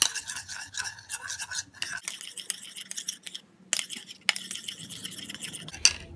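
A spoon stirs and clinks against a glass bowl while home-remedy ingredients, including lemon and orange peels, are mixed, giving repeated scraping strokes with short pauses between them.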